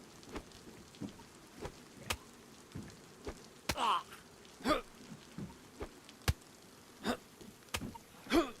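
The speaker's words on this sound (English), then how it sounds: "Rains a lot, doesn't it?" Rain in the DayZ survival game, scattered sharp drops and patters over a faint hiss, irregular and fairly quiet.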